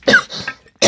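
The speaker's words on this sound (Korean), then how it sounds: "조금만 크게 하면 기침이 나오려고 그래갖고 말입니다" A person coughs twice, with a harsh close cough, a short pause, then another burst, loud and clear with no talk.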